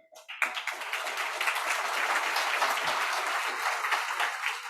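Applause breaks out at a Roots of Recovery 2022 gathering introducing Seattle city council members, starting abruptly and holding as a steady, moderately loud crowd clapping.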